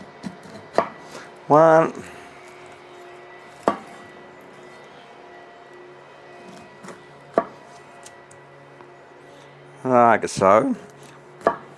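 A knife cuts a pineapple on a board with single sharp thuds spaced a few seconds apart. Short bursts of talk come in between the chops.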